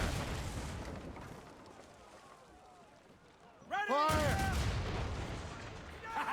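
Ship cannons boom in the naval combat of the video game Assassin's Creed Rogue, a rapid volley of loud blasts bursting after a quieter stretch of rumbling sea and crew noise.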